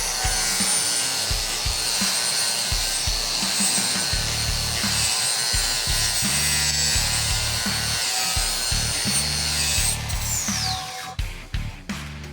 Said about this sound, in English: up next is a regular grinder with a flap disc